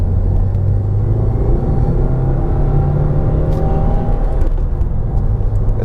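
Turbocharged car climbing a steep hill, its engine rumbling loud and steady from inside the cabin as the turbos spool up, with a continuous low drone and whir throughout.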